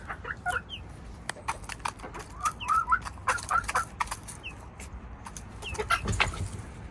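Several chickens cluck and chatter together in a farmyard pen, their short irregular calls overlapping amid rustling and knocking noises, fairly quiet and with no voices.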